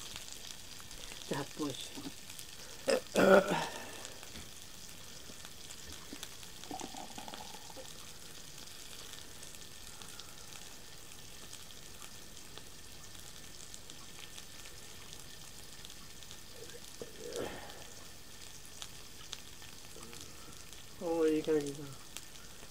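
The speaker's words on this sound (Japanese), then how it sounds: "ウインナーを炒めて。" Sausages fry in a pan with a steady, low sizzle throughout, while someone talks briefly and a few louder kitchen clatters break in near the start and end.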